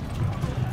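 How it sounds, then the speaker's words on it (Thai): A horse gallops at high speed in the battle game Conqueror's Blade, a brief run of quick, close hoofbeats with a voice talking over them. "ควบม้าด้วยความเร็วสูง"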